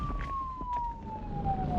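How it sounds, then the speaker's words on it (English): A police car siren wails outside in an animated horror story, a steady, slowly falling tone sounding moderately loud over a low background rumble for about two seconds. "At the same time, I heard police sirens outside."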